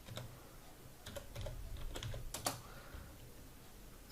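Soft, quiet typing on a computer keyboard, a scattered run of light key clicks with a sharper cluster near the end, alone with no voice.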